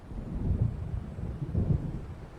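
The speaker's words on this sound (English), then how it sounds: "It seems there's a storm coming." Low rumbling thunder of an approaching storm in the video game Alan Wake Remastered, two deep rolling swells over a dull continuous roar with no voices.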